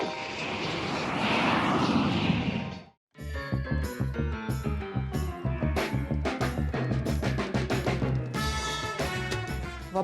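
An airplane flying in on arrival to Sochi gives a steady, loud engine roar for about three seconds, which then cuts to music.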